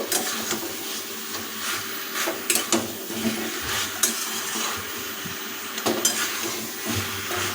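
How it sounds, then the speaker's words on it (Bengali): A spatula stirs spiced chicken in a hot pan, with a steady close sizzle and repeated scraping knocks of the metal against the pan across the whole stretch, heard without any talk. "গুঁড়ো মশলাগুলো এরপর আমরা যোগ করে দিয়েছি তাই এটাকে সুন্দরভাবে খুন্তি দিয়ে কিছুক্ষণ নাড়িয়ে নেব"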